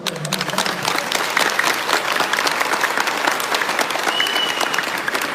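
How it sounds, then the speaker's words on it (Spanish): Steady, dense audience applause in a crowd gathered for a religious debate between a pastor and a priest, loud and sustained for over five seconds with no speech over it. "Aplausos."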